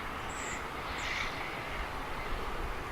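An airplane taxiing at DFW Airport near the west side cargo area, a faint, steady distant engine drone under broad background noise.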